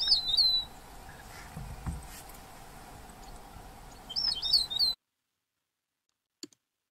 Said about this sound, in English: Very common bird down there is rufous-naped lark.